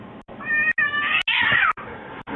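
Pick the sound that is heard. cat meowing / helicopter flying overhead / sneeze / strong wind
cat meowing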